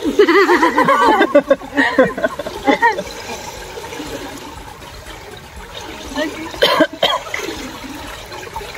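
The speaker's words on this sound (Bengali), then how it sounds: "কাশি হয়ে গেছে অলরেডি" A cough or two from a person during a December trip at an eco resort, heard close with voices talking around it and light watery sounds in the background.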